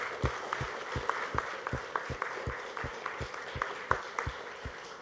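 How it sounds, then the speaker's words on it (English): An audience claps for the HRX heroes at a live event, a hall of steady applause with sharp, regular nearby claps over a diffuse crowd wash. "Ladies and gentlemen, can I have a big applause for all of them?"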